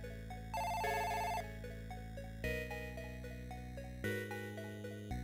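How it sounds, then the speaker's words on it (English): An electronic telephone ring tone sounds after dialing in the PC Engine game Dead of the Brain 2, repeating synthetic tonal pulses in a steady pattern, fairly quiet and without speech. "now we're dialing her phone number to see if she's okay"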